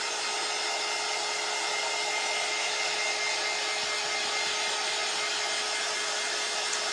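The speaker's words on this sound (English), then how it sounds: "I'm glad my dryer doesn't overheat like my other one." A dryer runs steadily while someone crafts, giving a loud, continuous airy whir with an unchanging tone for the whole stretch and no talking.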